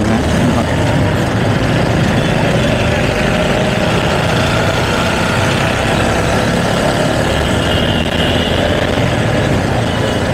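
A motorcycle engine runs loud and close with a steady low rumble and no clear revving, under broadband wind or road noise the whole time.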